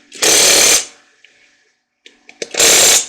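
A Hercules 20V brushless compact 3/8-inch impact wrench driving lug nuts: two loud, close bursts of rapid hammering, each about half a second long, separated by a pause with faint clicks and handling noise.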